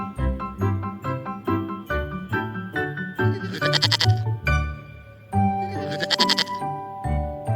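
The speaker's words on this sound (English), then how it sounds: "goat" A farm goat bleats several times in a row, loud and close, with wavering calls and short gaps between them and no other sound around them.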